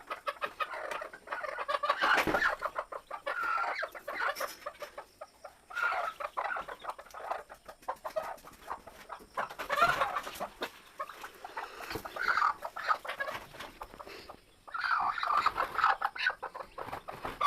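A hen clucks repeatedly in short bursts, with faint high peeping from her newly hatched chicks mixed in, fairly close and continuous throughout.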